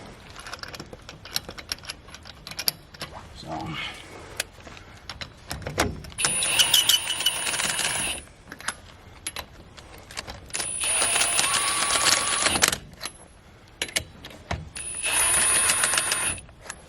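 Lug nuts going onto a hunting truck's wheel with a long socket, heard as repeated bursts of metallic whirring and rattling, each lasting a second or two, with clicks and knocks in the quiet gaps.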